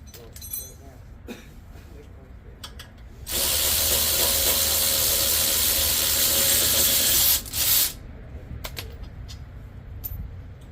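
A ratchet with an E14 socket works on a steering knuckle bolt on a 2011 BMW 528i F10, a dense, steady whirring run of about four seconds between quieter clicks and handling noises.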